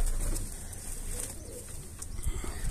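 Pigeons coo softly after bathing, low murmuring calls over a noisy outdoor background with a few brief rustles.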